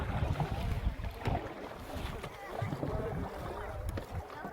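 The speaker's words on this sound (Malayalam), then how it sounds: "ഇത് തുഴഞ്ഞു പോകാന്നുള്ളതൊരു സീനാണ്" A rowboat moves across a lake at Vagamon, with soft splashes and water movement amid gusty wind buffeting the microphone, faint and uneven throughout.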